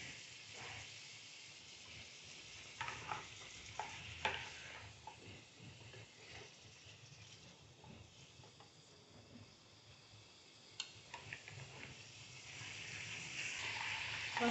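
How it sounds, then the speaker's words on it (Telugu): Chicken pieces are stirred in oil in a pan, giving a close sizzle and soft hiss with occasional scrapes and knocks of the utensil against the pan. "చికెన్ ముక్కలు ఆయిల్ కలిసేటట్టుగా కలుపుకోండి"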